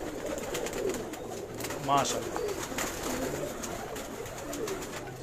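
Soft cooing from high-flyer pigeons in a large loft in Karachi, low and close, with a voice speaking over a steady background hum.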